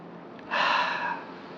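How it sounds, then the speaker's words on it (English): A single deep in-breath through the nose, as if smelling flowers during a guided breathing exercise, close and clear and lasting under a second. "smell the flowers is simply breathing in like this"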